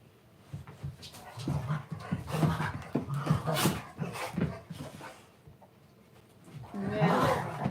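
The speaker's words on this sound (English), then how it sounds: "from the sound of the lunatics in the background, I am a dog fan and a shelter dog fan" Several rescue and shelter dogs bark, pant and whimper in the background of a home quilting livestream, bursts rising and falling throughout.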